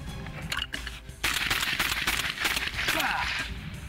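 Rapid gunshots fired from the hip with two hands, a dense burst of sharp, loud cracks in quick succession, heard close with some background clatter.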